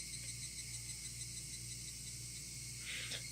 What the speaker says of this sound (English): Only the cry of the cicadas remained, annoyingly loud.